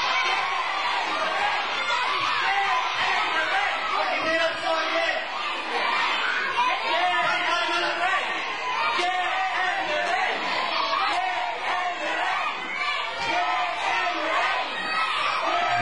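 A wrestling show crowd fills the hall with a steady murmur of chatter and scattered voices, with occasional laughs rising from the mix throughout.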